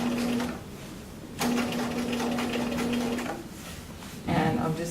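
Sewing machine top stitching close to the edge of a garment cuff, running in steady bursts with brief pauses between runs, close and fairly loud.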